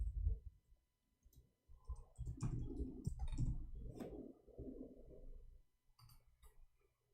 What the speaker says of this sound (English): Oh, I'm typing in Arabic.